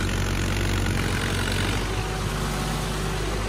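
A Mahindra tractor engine runs steadily during heavy farm work with a big load of wheat straw, a loud, continuous low drone with no pauses and no voices.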